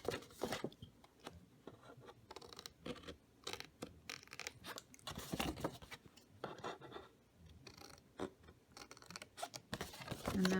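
Scissors cut through cardstock for a handmade Christmas box, giving quiet, close snips and scraping paper sounds in an uneven run of short strokes.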